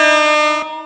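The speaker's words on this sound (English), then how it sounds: "That's horns. That's horns." A single loud, steady horn blast with a bright, buzzy harmonic tone, held for over half a second before cutting off abruptly and leaving a short decay.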